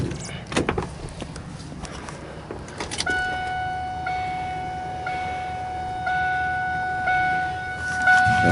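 A 2000 Ford F350 pickup with a 7.3 Power Stroke diesel and nearly half a million miles, cold-started without a glow plug relay: a cranking burst, then a loud, steady idle with a high whine that holds for the rest of the clip.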